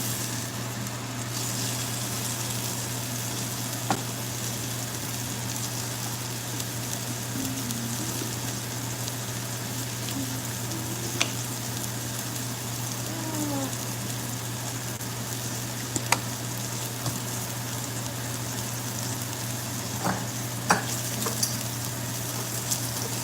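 Filet mignon tenderloin steak sears in a pan with a steady, moderate sizzle and occasional small pops and clicks nearby.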